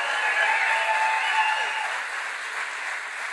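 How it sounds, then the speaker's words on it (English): A crowd at a campaign-style event at a defence manufacturing facility in Maine breaks into steady applause, a dense wash of clapping that holds evenly and fades a little toward the end. "Give a round of applause for Bobby Charles."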